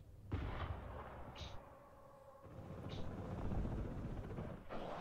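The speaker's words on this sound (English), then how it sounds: "Rocket artillery at your command, sir." Rocket artillery fire in the video game Broken Arrow, distant rumbling launches and booms layered over a low continuous battle din.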